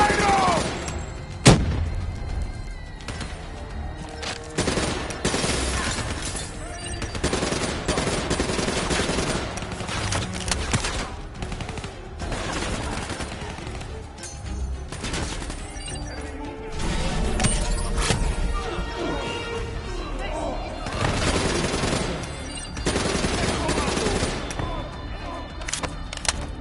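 Gunfire fills a Call of Duty battle in Cairo: dense, rapid bursts and crashing impacts go on almost without pause, with shouting voices mixed in.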